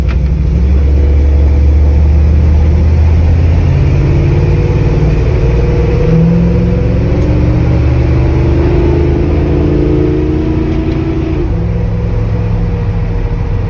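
A Dodge A108 van engine hums loudly and steadily while driving down the road, a continuous low drone with slight shifts in pitch as it pulls along, close to the microphone.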